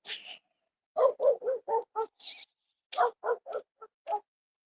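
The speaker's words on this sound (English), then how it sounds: "He was barking and he couldn't see." A dog named Fido barks close by in short, sharp bursts, a quick run of barks, a pause, then another run, with a brief high whine in between, alone with no talk.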